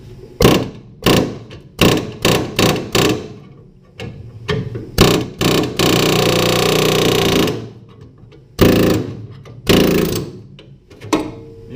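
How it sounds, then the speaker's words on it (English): A grinder works on the metal frame of a Datsun 280z, cutting in short repeated bursts with one longer sustained run, loud and close. "Looks like I might need to grind it down some more."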